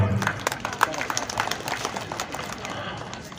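Audience applause at a ceremony honouring a couple on their 25th wedding anniversary, a steady dense patter of many hands clapping for a few seconds at moderate volume.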